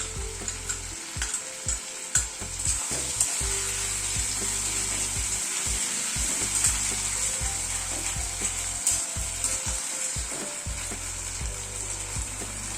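Eggs cooking with green and red chilli sauces and tomato ketchup over a high flame, a continuous loud sizzle broken by repeated spatula scrapes and knocks against the pan; no speech.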